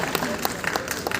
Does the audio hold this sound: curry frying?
no